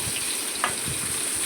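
Chopped onions frying in hot ghee for a home-style chicken curry, a steady close sizzle and crackle with a brief soft knock partway through.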